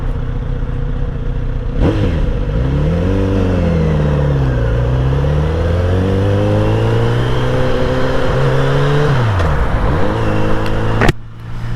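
A car's engine during a morning commute in traffic, loud and close from inside, its drone rising and falling as the car accelerates and slows, with no talking.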